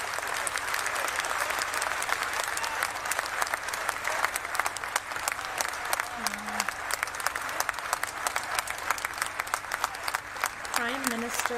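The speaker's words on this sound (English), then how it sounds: "Everybody's clapping." Steady applause from a crowd lining the street at a state funeral procession in London, dense continuous clapping throughout with a faint voice and occasional whistle-like tones mixed in.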